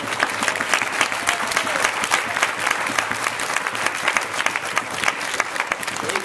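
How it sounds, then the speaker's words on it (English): A convention audience at Eagle Nest Convention Center gives sustained applause, a thick, continuous wash of clapping from many hands held at a steady level throughout. "let's give them all a huge round of applause."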